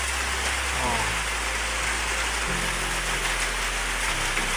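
Steady rain pours down in a dense, even hiss, close by, with a low hum running underneath.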